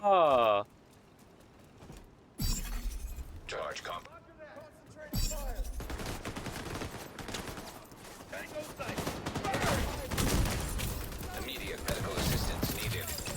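Explosions and gunfire in the video game The Division 2 follow a brief burst of game sound and a gap, then build into a dense, continuous rumble of blasts and shots under a player's voice.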